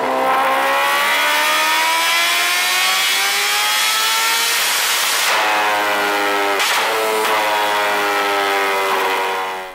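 A supercharged Kawasaki Ninja H2R superbike revs hard and loud, climbing in pitch over several seconds, then snapping through sharp repeated throttle blips near the end, alone with no talk.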